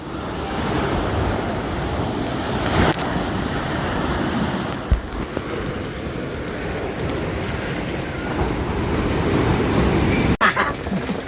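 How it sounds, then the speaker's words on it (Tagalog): Steady roar of ocean surf with continuous wash and wind buffeting the microphone, waves breaking throughout without pause. "Ay, alon eh."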